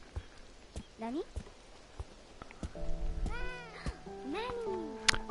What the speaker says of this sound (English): Is that a boat cat?